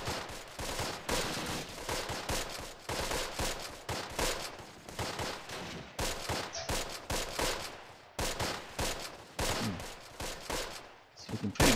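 Machine gun firing in Close Combat: The Longest Day, with repeated rapid bursts and scattered gunshots rattling at a steady pace across a long stretch, some slightly louder than others.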